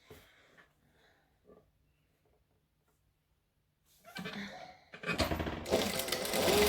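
A sewing machine stitches a Christmas tree skirt, starting after a quiet stretch with a short run and then a louder, steady whirring burst near the end.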